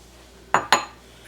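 Shredded coconut goes into a mixing bowl for peanut butter candy eggs, marked by two quick, sharp clinks of a utensil against the bowl in a quiet kitchen.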